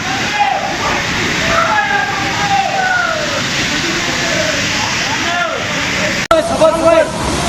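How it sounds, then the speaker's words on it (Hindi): Noori waterfall in Khyber Pakhtunkhwa pours with a steady, loud broadband rush of falling water, nearby and continuous, while voices talk over it throughout and a brief cut interrupts near the end. "ये है जी नूरी वाटरफॉल"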